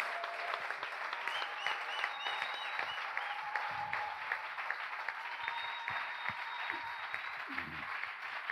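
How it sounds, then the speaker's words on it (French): A church congregation applauds at a service, a sustained, dense clatter of many hands that stays steady throughout, with a faint sung or spoken voice drifting under it and a few sharper claps near the end. "J'aimerais que tu acclames bien"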